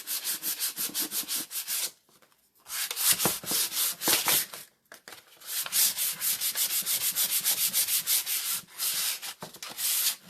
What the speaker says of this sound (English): So I'm going to do a little sanding here at the beginning.